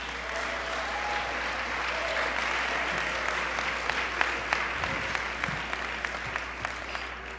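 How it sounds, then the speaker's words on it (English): An audience at an immigrant leadership awards ceremony in San Francisco applauds in a sustained, even roar, with a few sharper individual claps standing out toward the end. "Please give him a big round of applause."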